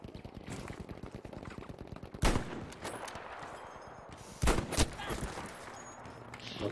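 Rapid automatic gunfire in the video game Battlefield 5, steady crackling bursts throughout with two louder, sharper shots standing out, close and dense.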